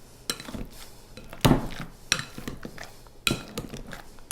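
A masher works through cooked cauliflower and potatoes in a pot, giving irregular metallic clanks and scrapes against the pot, several sharp knocks spaced among quieter squishing and stirring.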